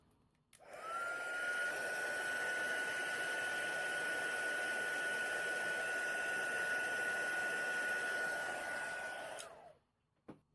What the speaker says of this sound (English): And then heat it with my heat tool.